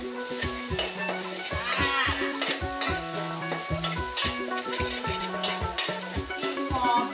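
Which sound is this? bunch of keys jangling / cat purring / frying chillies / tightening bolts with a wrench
frying chillies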